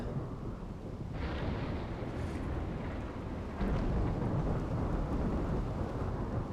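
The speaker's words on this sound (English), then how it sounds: "Oh, is that a rainy thunderstorm by any chance?" Video game thunderstorm in Rimworld: steady heavy rain hiss with low rumbling thunder rolling through, growing louder partway in and staying dense to the end, with no voices.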